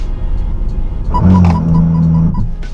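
A Proton X50 1.5 TGDi SUV accelerating on a race circuit, a steady engine drone that grows slightly louder midway, heard from inside the cabin with a faint chime repeating over it.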